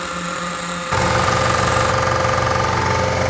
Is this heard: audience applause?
no